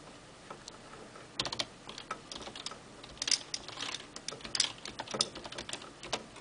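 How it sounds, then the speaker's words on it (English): Someone types slowly on a computer keyboard with one hand, producing soft, irregular clicks at close range in a quiet room. "it's hard to type it with one hand"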